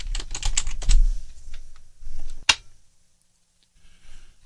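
Keys tapped on a computer keyboard while a password is entered during a WordPress install, a quick burst of clicks followed by a few isolated taps and a sharp final keystroke, close and clear with no talking.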